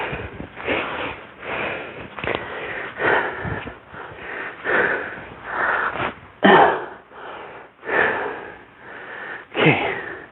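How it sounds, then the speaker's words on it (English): Heavy, rhythmic breathing after a parkour push-day workout, close to the mic, with loud wheezy inhales and exhales repeating every second or so, some sharper sniffing gasps in between. "I get to enjoy the heavier breathing"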